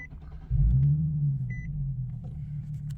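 A Nissan 370Z with about 30,433 miles cranks and fires up close by, a heavy low rumble that settles into a steady idle, with a brief electronic beep chiming partway through.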